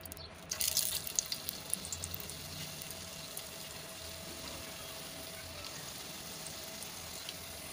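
Onion pakoras deep frying in hot oil give a steady, soft sizzling hiss that runs evenly throughout, with a brief louder clatter near the start and no talking.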